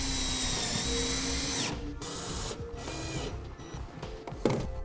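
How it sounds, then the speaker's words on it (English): Power drill driving self-tapping screws with washers into a 2012 Ram truck bed wall to secure a 7-way plug, a steady close whir followed by short bursts and clicks as the screws seat. "We'll go ahead and secure the 7-way plug with all four screws and washers."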